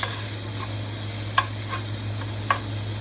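Vegetables sautéing in a pan for a cube steak and gravy dish, with a low steady hum underneath and a few brief utensil stirs or clinks standing out over the quiet background.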